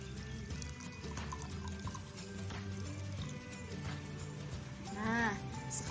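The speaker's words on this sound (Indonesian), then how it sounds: "Kita tuangkan air tersebut ke dalam gelas secara perlahan." Coloured water poured slowly from a bottle into a glass, a soft steady trickle running throughout beneath a faint background voice, with a brief rising gurgle as the glass fills near the end.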